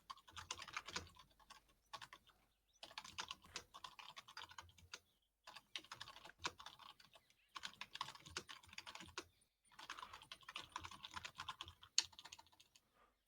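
Loud, rapid typing on a computer keyboard comes in several bursts of close, clattering keystrokes separated by short pauses, with no talking.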